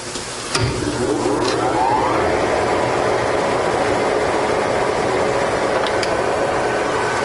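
A milling machine runs loud and steady while machining a Reed 602 vise, with a sharp clank near the start, a rising whine as it spins up, and a constant mechanical drone after.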